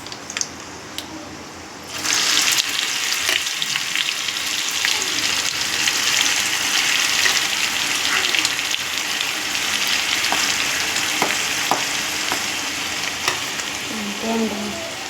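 Mango pickle sizzles and fries steadily in a pan, a dense continuous crackle that starts abruptly after a quiet first two seconds and holds close and loud, with occasional stirring clinks and no talk.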